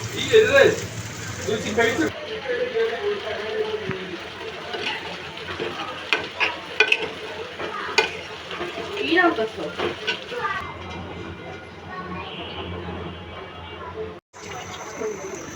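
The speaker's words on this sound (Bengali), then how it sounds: "এখন দিয়ে দেব দুধ যাতে আমি একটু জর্দা রং মেখে নিয়েছিলাম" Milk goes into frying chicken with a sizzle, then stirring scrapes and bubbles at close range while someone talks over much of it.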